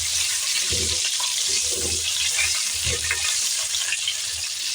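Pointed gourd (potol) pieces frying in oil in a pan, a steady soft sizzle and crackle with occasional stirring clinks, close and continuous.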